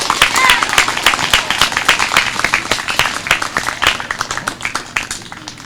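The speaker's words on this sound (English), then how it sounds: "another round of applause" Applause for a fourth grade class at its graduation ceremony, a crowd clapping steadily and fairly loudly with scattered voices underneath, tapering off near the end.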